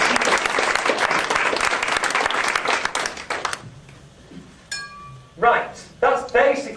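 A mentalism stage show audience applauds a volunteer with loud, dense clapping that fills the first few seconds. The applause then stops abruptly, leaving near-quiet followed by a few short bursts of a man's speech.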